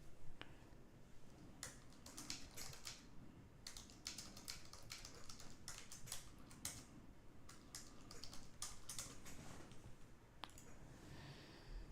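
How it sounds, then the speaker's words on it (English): Rapid, uneven keystrokes on a computer keyboard tap out in bursts of clicks across the whole stretch, close and fairly quiet, with brief pauses between runs and no talking. "Sorry, I'm typing."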